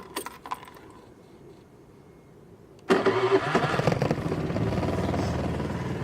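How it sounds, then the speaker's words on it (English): A fuel-injected scooter engine that has sat unused for three weeks cranks and catches at once, then settles into a steady, loud idle close by after a few seconds of quiet and light clicks. "I haven't started the bike in a good three weeks, and it's really injected and it starts right up"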